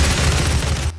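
Rapid gunfire in the video game DOOM, a dense, loud barrage of booming shots with heavy low-end thumps repeating steadily for about a second before cutting off abruptly.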